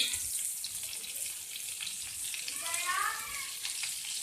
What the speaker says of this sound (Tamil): பட்டர் நல்லா உருகுது